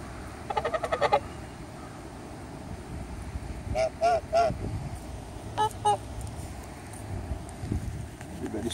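A small flock of domestic geese or fowl honks and chatters in short bursts, a few loud close calls spaced across a quiet, breezy outdoor background.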